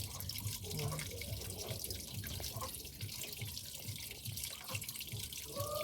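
Water runs steadily from a tap into a sink while dishes and glasses are washed, a continuous close splashing rush with small clinks and drips and no talk.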